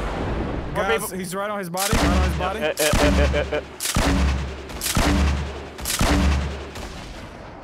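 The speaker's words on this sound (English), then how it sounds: "Oh, those are grenades." Heavy, booming grenade explosions in the video game Fortnite, several loud blasts in quick succession, with a player talking excitedly over them.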